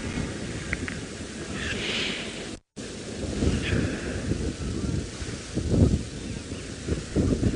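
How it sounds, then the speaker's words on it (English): Wind rushes steadily across an open landscape during an evening safari drive, a low blustery buffeting with gusts that swell and fade, and faint scattered rustles and a brief dropout along the way. "Just listening to the wind."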